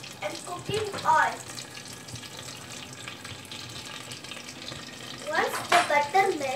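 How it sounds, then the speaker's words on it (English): Butter and cooking oil heating together in a pan: a low, steady crackling sizzle throughout, with brief voice-like murmurs near the start and again toward the end. "In the pan and add butter and cooking oil."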